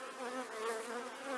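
Honey bees buzz steadily around an open hive during an inspection, a soft, continuous droning hum with wavering pitch as many insects fly close by, with no talking.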